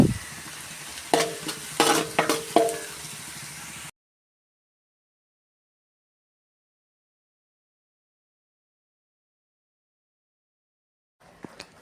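Sautéed onions and carrots sizzle and crackle in a pan with several sharp stirring clatters over a few seconds, then the sound cuts to silence before brief noise returns at the end.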